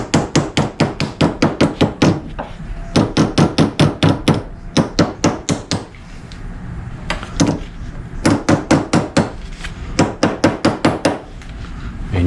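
Steady hammer blows ring out on a metal anvil in a garage, reshaping a bent part back toward a right angle; quick bursts of evenly spaced strikes separated by short pauses, loud and close with no talking.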